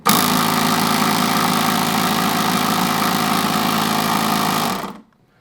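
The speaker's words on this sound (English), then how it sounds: "And then you turn the compressor on. It's going to be a little noisy here." Schumacher FR01337 jump starter's built-in air compressor running steadily and loudly at close range for about five seconds with a constant mechanical buzz, then cutting off abruptly into silence.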